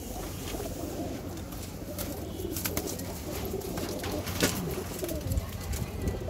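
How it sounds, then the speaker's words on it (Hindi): Pigeons coo steadily in a loft, with soft overlapping calls and wing rustles over a constant low background murmur, fairly close and moderately loud. "बाकी नीचे कबूतर बैठे हुए हैं।"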